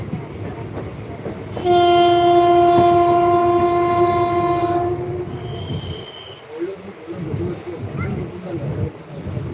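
A passenger train rumbles steadily close by, and a loud horn blasts for a few seconds. Voices talk faintly over the rolling noise.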